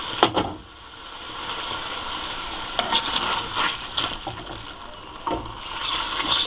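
Salmon frying in a pan, still frozen on one side and browning on the other, gives a steady close sizzle with a few sharp scraping knocks as the fish is turned.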